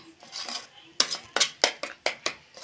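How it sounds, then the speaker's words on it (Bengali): A metal spoon scrapes and clanks against a kadai while food is stirred for tal kheer, a run of sharp, regular knocks following softer scraping. "কড়াইটা একটু ভালো করে নেড়ে নিই"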